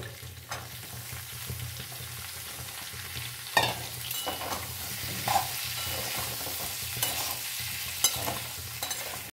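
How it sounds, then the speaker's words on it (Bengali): Potatoes and green peas fry in hot oil for a vegetarian new-potato dum, a steady close sizzle with scraping stirs and occasional sharper clacks of the spoon against the pan, no voices. "আলু মটরশুঁটি খুব সুন্দর ভাজা হয়ে গেছে।"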